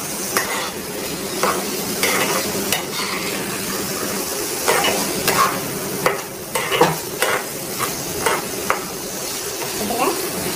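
Vegetables for a vegetable biryani, including carrot, fry in a pan with a dense, constant sizzle. Stirring and light clinks of utensil against the pan are scattered over it.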